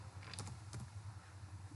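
Keys tapped on a computer keyboard as numeric values are typed in while running a Python program, a few quiet clicks clustered near the start over a steady low hum, with no talking.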